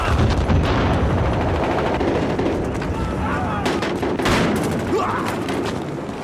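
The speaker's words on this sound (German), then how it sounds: "Schießen." Gunfire in the video game Battlefield Hardline, with a dense steady barrage of shots and booms that goes on without a break, loud and close, and voices speak over it.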